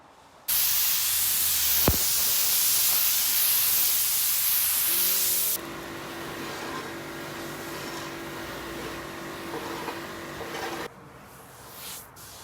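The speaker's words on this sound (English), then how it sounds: "get the air compressor to just blow all that dusty bits off" An air compressor blows dusty bits off freshly grouted Tuff joint utility grout, a loud steady hiss of air that cuts off abruptly partway through, leaving quieter background noise with no talk.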